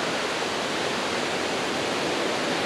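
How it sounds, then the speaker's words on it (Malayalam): The Kadappara waterfall near Chimmini Dam wildlife sanctuary in Thrissur roars from a distance as a dense, steady rush of falling water, broad and unbroken with no voices. "വെള്ളച്ചാട്ടത്തിൻ്റെ സൗണ്ട് ഇതുവരെ കേൾക്കുന്നുണ്ട്, ഇവിടെ വരെ കേൾക്കുന്നുണ്ട്"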